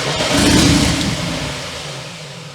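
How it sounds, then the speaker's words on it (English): A Holden VL turbo engine with no exhaust fitted revs up in a loud, raw burst, then falls away into a fading rumble, with no voices. "How good's that exhaust sound by not having one?"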